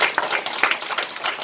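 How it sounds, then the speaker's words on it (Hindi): A group of people in a rural crowd gathered around a street snake show claps in quick, uneven bursts of sharp hand claps, close by, with a little background voice mixed in. "लो ताली बजा दो"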